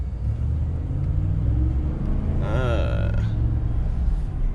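A stock Ford King Ranch pickup's exhaust rumbles steadily at close range, with a voice briefly speaking over the engine.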